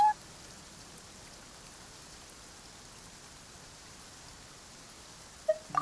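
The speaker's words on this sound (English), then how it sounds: "It's raining." Rain falling in the video game Genshin Impact, a steady soft hiss of rainfall on surfaces throughout, with brief chime-like tones at the start and end.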